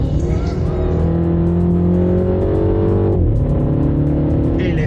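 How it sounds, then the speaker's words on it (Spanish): Loud, steady engine roar from a 2026 Mini Countryman John Cooper Works, a close onboard drone that shifts pitch once partway through, with faint light crackles on top. "El escape tiene un bramido y unos petarditos bastante interesantes"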